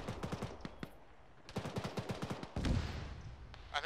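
Gunfire in the ArmA military sim during a ShackTac squad operation: quick bursts of rifle shots crack out near and loud in two clusters, then a heavier blast rumbles before more sharp reports at the end.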